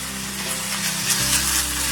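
Onions fry in a pan with a bright, steady sizzle, close and loud, with a faint low hum running underneath.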